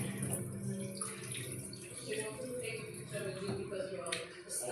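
Water splashing and pouring as soaked grains are rinsed by hand, with continuous sloshing and tap-like flow close by under occasional talk.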